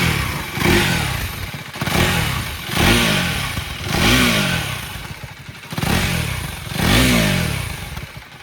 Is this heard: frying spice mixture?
no